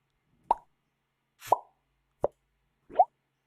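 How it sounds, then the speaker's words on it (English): Four short, bright pops spaced about a second apart, each a quick plop standing alone against silence. "so if you go to audio, sound effects, and then you go pop"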